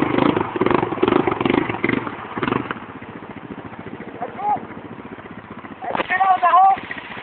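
An off-road vehicle engine chugs and runs while mudding outdoors, a rough rhythmic rumble that rises and falls, with someone talking over it.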